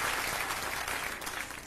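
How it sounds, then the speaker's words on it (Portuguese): A church congregation gives continuous, even applause to the Lord during a gospel performance, sounding soft and somewhat distant. "Aplauso para o Senhor"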